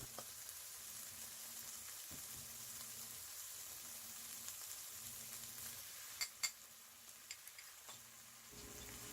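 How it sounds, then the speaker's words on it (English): Gizzard and mixed vegetables stir-fried over high heat in a pan give off a steady, fairly quiet sizzle, with a few sharper clicks of utensil against pan near the end. "Now stir fry your food in high heat. Mix it always and fast."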